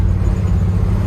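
A 1975 International Harvester 150 pickup's engine pulls steadily in second gear on a dirt road, a loud, continuous low rumble close by with no break.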